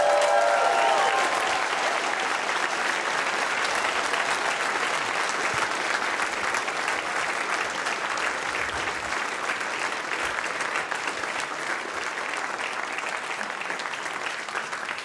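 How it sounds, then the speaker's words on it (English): A live audience in London gives sustained, even applause for the two finalists of a speed chess championship. The clapping is dense and steady from start to finish, with no talking over it. "can we please have a massive round of applause for both of our finalists?"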